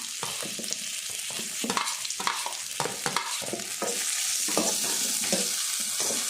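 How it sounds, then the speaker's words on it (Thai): Garlic, black pepper, coriander root and ginger stir-fried together in a pan, with a steady close sizzle and repeated scraping strokes of a spatula that turn irregular, the frying hiss growing louder near the end. "กระเทียมพริกไทย รากผักชีขิง เอาไปผัดรวมกันค่ะ ให้หอมๆนะคะ"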